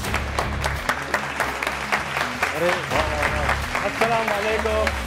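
Studio audience applauding on a talk show, a dense steady clatter of hands under which a voice can be heard talking and calling out.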